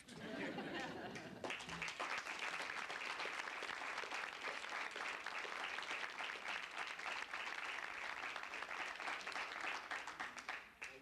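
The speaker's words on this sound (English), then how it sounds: "Keep applauding. It's okay." An audience at a poetry festival applauds in a sustained, even round of clapping that lasts throughout, fairly close and full, with faint chatter underneath.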